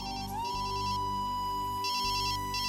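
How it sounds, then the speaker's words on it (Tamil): A phone ringtone plays an electronic melody for an incoming call in a Tamil TV drama, repeating its bright, ringing phrase with brief gaps, loud and close, with no speech. "அவரே ஃபோன் பண்றாரு."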